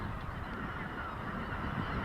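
Geese and other waterfowl honk in a dense, continuous chorus over flooded rice fields in California's Central Valley, many overlapping calls at moderate distance with no talking.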